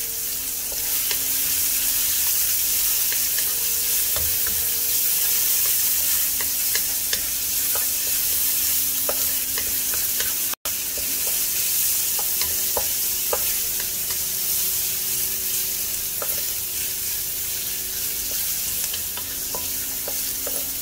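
Shallots fry with a little salt in a pan for a Chettinad mutton bone curry, sending up a continuous loud sizzle. Scattered light clicks and taps from stirring run through it, and no voices are heard.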